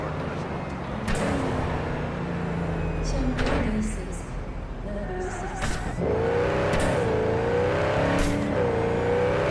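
Javelina car engine in Cyberpunk 2077 revving and pulling, a steady mid-loud drone with rising pitch sweeps near the end, under someone talking.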